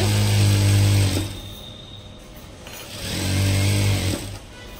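Sewing machine running in two steady bursts while stitching around the edge of lehenga fabric, close and fairly loud, with a quiet pause between runs.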